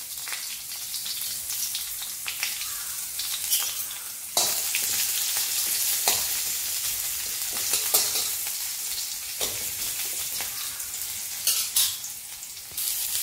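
Mustard seeds, curry leaves, crushed ginger and garlic frying in hot oil, a continuous close sizzle with occasional stirring scrapes, louder after the leaves go in, no voices.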